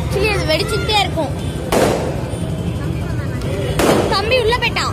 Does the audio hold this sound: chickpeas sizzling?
no